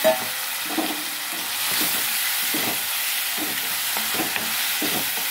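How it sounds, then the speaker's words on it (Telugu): Boiled mutton sizzles in hot oil with ginger-garlic paste, a steady loud broadband frying hiss with intermittent soft scraping of a spatula stirring, close and without speech. "ఇప్పుడు ఉడకబెట్టిన మటన్ వేసేస్తున్నాం"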